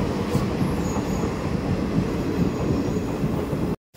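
A train pulls into a station platform, its heavy rumble and wheel noise filling the clip with faint squeals overhead, steady and close until it cuts off abruptly at the end.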